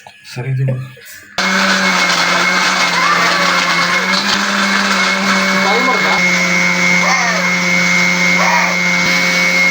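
A loud mixer grinder blending a mango milkshake whirs continuously at high speed after a brief quiet start, with faint voices talking underneath.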